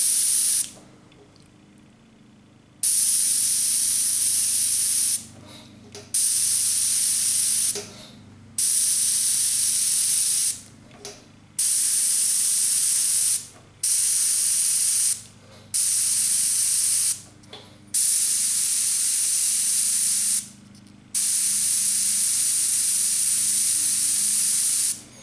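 An airbrush sprays test paint for a 1977 Camaro, with the paint reduced about 50%: about nine loud, close hissing bursts of several seconds each, separated by short silent pauses.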